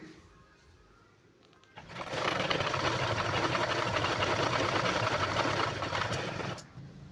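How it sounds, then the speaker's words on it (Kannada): A sewing machine runs steadily for about five seconds while stitching blouse pieces, a loud, continuous mechanical whir that starts abruptly and stops, with no talking. "ಈ ರೀತಿ ಇಂಚನ್ನ ಫೋಲ್ಡ್ ಮಾಡ್ಕೊಂಬಿಟ್ಟು ಸ್ಟಿಚ್ ಹಾಕೊಂಬನ್ನಿ ಫುಲ್ಲು"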